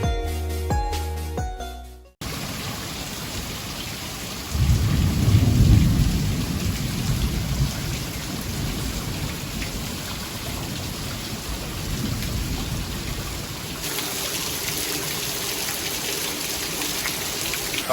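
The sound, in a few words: thunderstorm with rain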